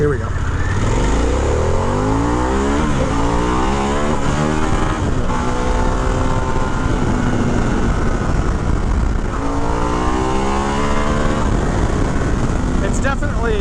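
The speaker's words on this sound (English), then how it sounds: "Getting on the throttle like that, this bike wants to come up and wheelie on you." Harley-Davidson Pan America Special motorcycle in sport mode, its engine climbing hard through rising revs with gear changes, loud and close under steady wind rush while a rider talks briefly.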